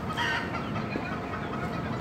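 A hen and her baby chick cluck close by, a few soft clucks and faint peeps over a muffled background.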